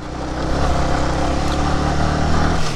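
A motorbike rides a bumpy gravel road on a hill route, its engine drone loud, steady and close, with rough road rumble throughout and no talk.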